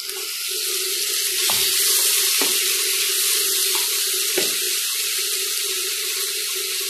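Squid frying with half-cooked onions in a pan makes a steady, loud, close hiss, broken by a few light knocks of a stirring spoon.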